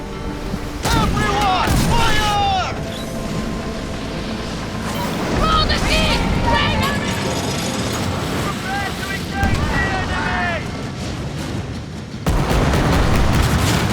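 Incoming mortar fire exploding around a ship in the Skull and Bones naval combat video game: repeated heavy booms and blasts over roaring wind and sea noise, with loud impacts near the end and someone talking.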